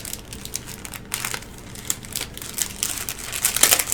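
Die cut paper pieces rustle and crinkle as they are slid into a paper ephemera pack during a craft project, with close, irregular crisp crackles that grow busier toward the end.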